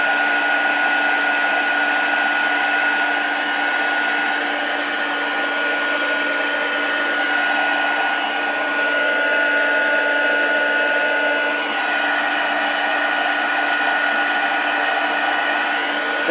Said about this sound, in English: this heat tool is quite hot and it's making my fingers feel a bit scorched